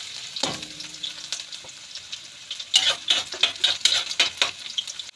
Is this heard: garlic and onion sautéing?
yes